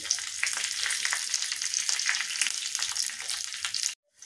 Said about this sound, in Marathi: तेल तापलं की त्यात टाकूया थोडीशी मोहरी, थोडंसं जिरं, 1 लाल मिरची तुकडे करून घेतली आहे, थोडासा कढीपत्ता आणि ठेचून घेतलेलं लसूण